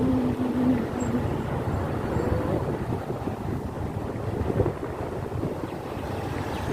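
Strong wind blowing outdoors in Dubai heat, a continuous low rumbling buffet against the microphone at moderate level, with no speech.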